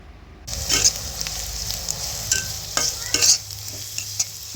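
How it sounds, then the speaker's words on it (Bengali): Onions frying in a pan with a steady broadband sizzle, punctuated by scraping stirs and small pops, close and fairly loud, no talking. "পেঁয়াজগুলোকে ভেজে নিচ্ছি"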